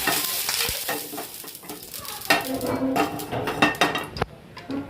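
Gola ruti batter going into hot oil in a pan, a close sizzle with scraping and clinking of a utensil against the pan, sharp knocks breaking through the frying hiss.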